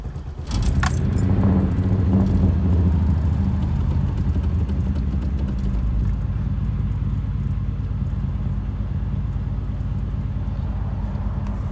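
Volkswagen MK3 with a VR6 engine, fitted with a new polished manifold and intake elbow, cranks and catches, then settles into a loud, steady idle with a light jingle of keys near the start.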